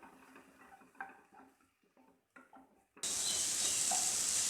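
Chopped tomato goes into a pan for green peas masala: a few soft spatula clinks and stirs, then a sudden loud, continuous sizzle as it starts to sauté.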